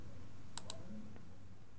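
Two quick, crisp mouse clicks sound close together while categories are switched in an asset browser, set against faint room hiss.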